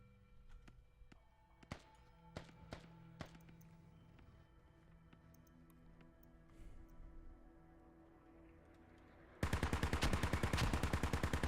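Mortar and gunfire in a team-match military shooter: scattered sharp distant shots and thuds, then a loud, fast, sustained burst of automatic fire closing the stretch.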